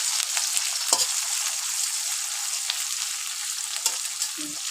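Onion, green chili and bay leaf fry steadily in hot oil in a pan, giving a constant bright hiss with a few brief stirring scrapes, close and continuous throughout.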